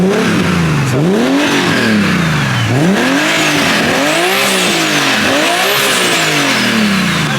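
A turbocharged, manual-swapped first car revs hard repeatedly, the engine pitch climbing and falling in several loud, close sweeps with a rising turbo whine on top, no talking heard.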